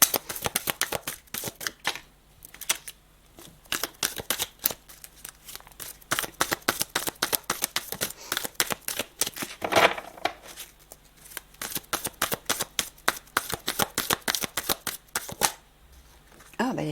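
Playing cards shuffled for a card reading, a long run of rapid riffling flutters and snaps repeated in bursts with brief pauses between them, close up and fairly loud, with no talking.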